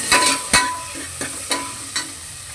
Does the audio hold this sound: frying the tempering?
yes